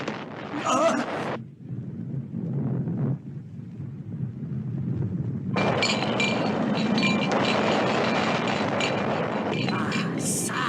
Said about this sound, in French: Ça au moins, c'est une explosion.